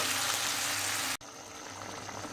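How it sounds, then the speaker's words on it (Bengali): Potatoes and tomatoes fry in a pan with a loud, dense hissing sizzle that cuts off abruptly, then continues as a softer, steady crackle. "এগুলো একটু ভেজে নিচ্ছি।"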